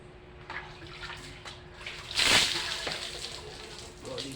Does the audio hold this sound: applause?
no